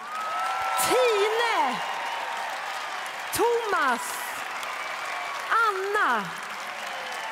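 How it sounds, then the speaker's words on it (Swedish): Audience applause for a house choir and dancers at the Melodifestivalen 2010 final, a steady background wash of clapping and some whoops running under an announcer who speaks loudly in front. "Ge dem nu en riktigt varm applåd."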